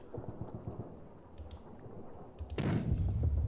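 Mortar fire in the Panzer Campaigns Poland 1939 wargame lands as a deep, rumbling boom that swells and holds low and heavy, after quieter rhythmic low thuds.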